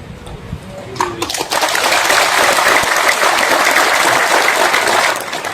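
Audience applause at a religious lecture in Indonesia: after a brief voice, a large crowd breaks into loud, sustained clapping that fills the room for several seconds.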